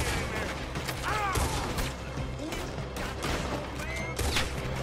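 Gunfire in Red Dead Redemption 2 cracks out as repeated close shots with sharp transients and ringing tails, mixed into dense game ambience and effects.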